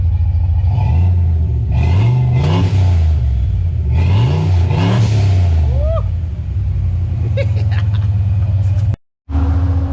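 A 500 HP stock-block car engine with an On3 turbo revs up hard several times close by, rising and falling loudly over a rumbling idle before cutting off briefly near the end.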